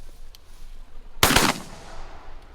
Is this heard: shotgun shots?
yes